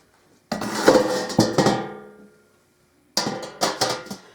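Meat being set on a small metal rack inside a roasting pan, heard as two clusters of close metallic clanks and scrapes separated by a quiet pause of about a second, with no talking.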